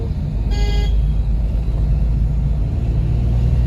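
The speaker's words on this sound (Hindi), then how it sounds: "इस मुड़ाव पर हमारे ड्राइवर साहब ने अच्छी गाड़ी को मोड़ते हुए क्या आगे बढ़ाया है" A car engine drones steadily as the driver takes a sharp turn on a mountain road toward Kainchi Dham, a loud continuous rumble with a brief horn-like toot near the start.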